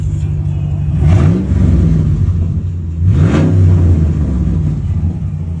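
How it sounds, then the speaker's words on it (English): A loud exhaust on a 2019 Ram 1500 pickup truck revs twice, each rising roar swelling then dropping back to a steady, rumbling idle. "how loud the exhaust kind of is"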